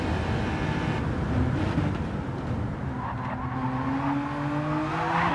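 Race car in a racing video game at Mount Panorama losing its rear under braking, steady engine drone with rising tire squeal and skidding tones through the braking zone, loud and continuous with no talk.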